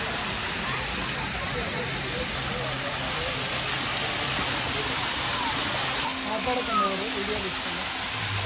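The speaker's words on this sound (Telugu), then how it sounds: "చూడండి, ఇంకో వాటర్ ఫాల్" A waterfall at Shilparamam in Hitech City gives a steady, broad rushing hiss of falling water, moderately loud and constant throughout, with people talking over it.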